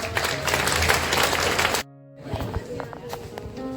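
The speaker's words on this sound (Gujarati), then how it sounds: "વિક્રમબેન માટે એક તાળી પાડો" Students in a school classroom clap for a teacher during a Teachers' Day celebration, a dense burst of applause that cuts off abruptly and is followed by scattered shuffling and movement noises.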